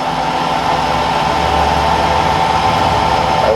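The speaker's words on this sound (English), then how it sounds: "Spindle on, put the power feed on." A manual milling machine spindle runs steadily with the power feed engaged, a loud continuous mechanical whir and hum with a constant tone throughout, nothing else heard over it.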